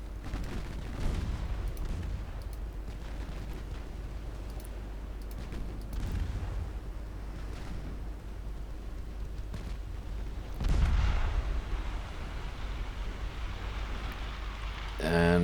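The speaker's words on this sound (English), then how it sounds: "And ships are exploding." Naval battle in Ultimate Admiral Dreadnoughts as ships explode, with deep rumbling booms over a constant low sea-and-engine drone and a stronger blast about two-thirds of the way through.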